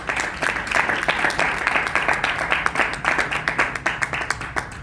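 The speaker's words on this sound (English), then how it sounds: "we need to give this woman, again, a big hand of applause to Benicia" A summit audience in a hall claps together, dense and sustained applause with a faint rhythmic pulse to it, filling the room and then slowly easing off.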